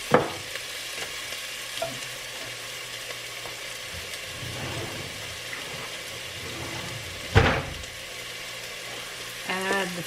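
Onion being sautéed in a pot, giving a steady soft sizzle with stirring scrapes, a louder clatter of utensil against the pot near the middle, and a brief knock near the end.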